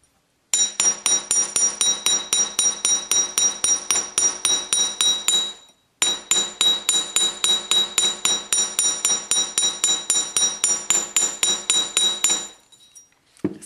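Rapid, evenly spaced metal hammer blows ring out on wire for a Christmas tree pendant, loud and close, in two long runs separated by a brief pause, the second run trailing off into softer taps.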